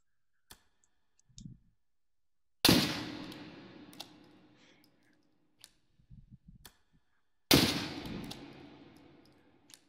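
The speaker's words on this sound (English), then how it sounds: "Fires out the round." A gun fires in the VR shooter Hot Dogs, Horseshoes & Hand Grenades, with two sharp, loud shots spaced several seconds apart, each ringing out into a decaying echo, between quiet mechanical clicks and handling sounds.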